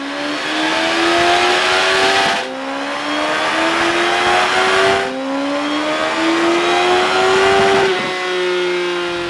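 Suzuki GSX-S1000F motorcycle with a Yoshimura exhaust at full throttle, three loud, close runs up through the gears, each a rising engine howl broken by brief shift gaps, ending at a steady idle.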